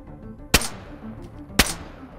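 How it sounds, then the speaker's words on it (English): Two sharp gunshots, roughly a second apart, crack out in the DayZ video game, each with a short tail over quiet background. "I see him shooting."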